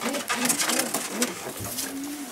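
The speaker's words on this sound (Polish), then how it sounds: "Tu jest około 13 gołębi, 13 albo 12" Pigeons in a breeding loft coo in soft repeated rolling calls, close and moderately loud, over busy background noise in the loft.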